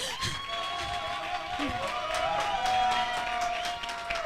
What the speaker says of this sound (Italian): Please take your applause.